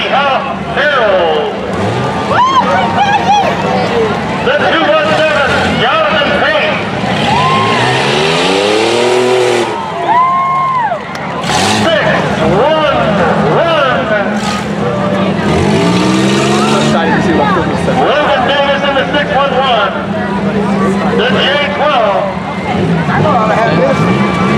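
Minivans racing in a demolition derby at a county fair, engines roaring and revving continuously with tire squeals and crunching impacts, loud and close, with an announcer's voice over the noise.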